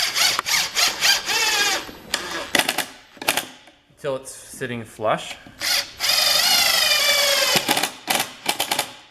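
A countersink drill bores into wood while an Adirondack chair is assembled, giving repeated short whirring bursts and then a longer steady grinding run near the end. Someone talks between the bursts.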